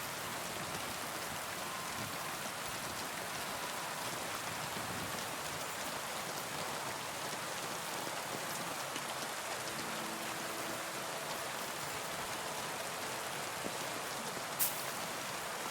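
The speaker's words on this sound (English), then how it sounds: "Oh, it really is pissing down," Heavy rain in the video game Kingdom Come Deliverance 2, a steady, dense downpour that hisses evenly throughout without letting up, with no voices.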